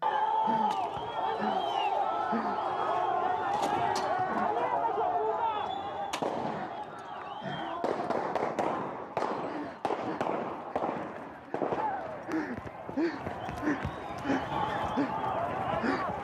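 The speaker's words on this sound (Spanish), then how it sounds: "de nuevo se escucha la misma secuencia de disparos" Repeated sharp gunshots crack out in irregular bursts over a loud, shouting crowd of protesters, some shots close together and others spaced apart.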